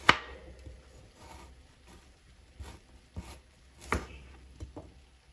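A knife dices one whole carrot into small pieces on a cutting board, a string of separate close chopping taps at irregular intervals, a louder knock at the start, with quiet gaps between cuts.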